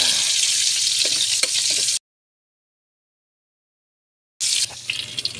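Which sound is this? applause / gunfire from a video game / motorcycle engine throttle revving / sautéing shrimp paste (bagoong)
sautéing shrimp paste (bagoong)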